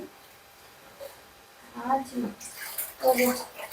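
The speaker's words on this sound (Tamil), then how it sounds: "நம்ம நார்மல் தண்ணி ஊற்றலாம்" Water splashes and pours in short bursts into a cooking pot, close by, starting after a quiet moment, with a voice speaking over it, while making Tamil fish curry.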